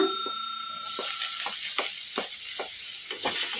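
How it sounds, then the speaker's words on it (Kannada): Chopped garlic sizzles in hot oil in a pan over a medium flame for egg rice, a steady loud frying hiss broken by regular scraping stir strokes about every half second, with no talking. "ಬೆಳ್ಳುಳ್ಳಿ ಹಸಿ ವಾಸನೆ ಹೋಗೋವರೆಗೂ ಫ್ರೈ ಮಾಡ್ಕೊಂಬಿಡೋಣ ಮೀಡಿಯಮ್ ಫ್ಲೇಮಲ್ಲಿ"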